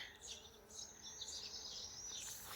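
Bees buzz faintly outdoors in a vegetable garden, a soft continuous high hum with some wavering, alongside light insect and distant bird sounds.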